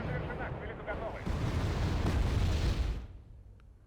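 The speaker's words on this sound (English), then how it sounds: "while that artillery barrage is going on" Artillery barrage in the Wargame strategy game: dense, continuous rumbling booms and blasts that swell louder midway, then drop off abruptly to a quieter tail.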